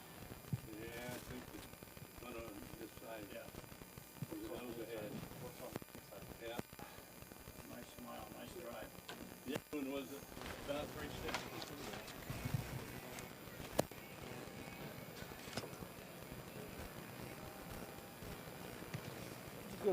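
Harness racing horses trot at a county fair track in Menard County, hooves clip-clopping in a faint, busy rhythm mixed with crowd murmur and scattered voices of people talking.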